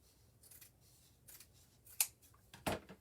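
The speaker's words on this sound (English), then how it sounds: "I'm going to cut off this little bit of extra" Scissors snipping off a little extra craft material from a small unicorn gnome, giving a few sharp, close cuts spaced apart in a quiet room.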